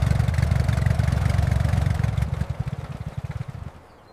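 A 1925 Hispano-Suiza H6B cabriolet engine running close by, a steady low rumble with rapid firing pulses that turn choppier and lumpier before it cuts out near the end.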